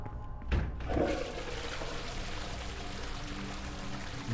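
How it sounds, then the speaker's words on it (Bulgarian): A toilet flushes in the horror video game The Nightfall, a sharp whoosh followed by a sustained rushing, gurgling refill of water that continues evenly and fairly quietly. "много срам, че пуснахме водата"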